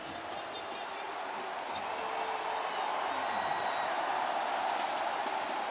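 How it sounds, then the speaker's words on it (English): A football stadium crowd roars in a broad, steady wash of cheering that swells slightly after a goal. The noise is distant and continuous, with faint commentary voices under it. "Well, that's got the crowd going now"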